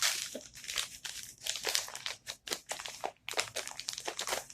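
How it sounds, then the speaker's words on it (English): A plastic bag sealed with strong tape is torn open by hand, making close crinkling and ripping noises in rapid uneven bursts for several seconds, with no talking. "Going to rip through it because that tape is very, very strong."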